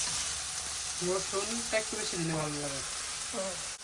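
Dried red chillies fry in oil with a steady close sizzle while a person talks over it.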